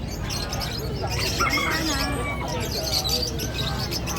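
Mixed bird calls and chirps rise over a steady crowd babble at a busy Bocaue animal market, with short whistling calls and squawks at mid distance and people talking throughout.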